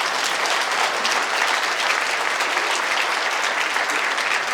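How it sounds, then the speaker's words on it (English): Dense, steady applause from a large crowd at a gala in Toronto, continuous and loud throughout, with no gaps. "Give them a big hand of applause."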